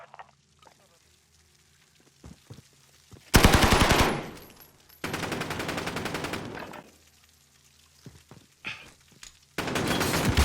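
Bursts of automatic gunfire from the video game Modern Warfare, loud and close, come in sustained volleys separated by quieter stretches of low background noise.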